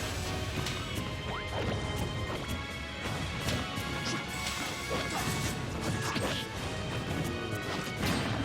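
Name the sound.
Villager's bowling ball forward smash, Super Smash Bros video game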